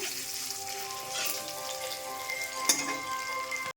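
Sliced pointed gourd fries in oil with turmeric and salt, giving a close, steady sizzle, a quick clatter of stirring near the end, and no talk.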